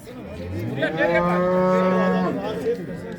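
A single long, loud moo from a nearby cow at a livestock market in Sungurlu, Çorum, Turkey, rising then holding steady before fading, with faint background noise around it.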